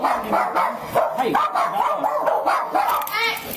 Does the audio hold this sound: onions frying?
no